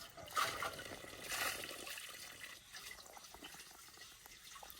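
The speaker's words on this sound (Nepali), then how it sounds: "पानी गाडीमा थाप्दै" Water pours and trickles into a container on a cart outdoors, a soft irregular splashing that is fairly faint, louder at the start and easing off toward the end.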